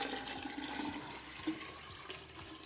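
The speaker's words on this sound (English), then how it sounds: "I have a pitcher of water. I'm gonna pour it into my jar" Water pours from a pitcher into a glass jar, a steady, close liquid stream with a brief splash partway through, heard on its own without speech.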